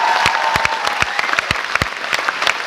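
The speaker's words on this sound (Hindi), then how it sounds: "उनके लिए जोरदार तालियां होना चाहिए।" Audience applause at a motivational training event, steady dense clapping with a few sharp louder claps standing out, loud and continuous with no talking over it.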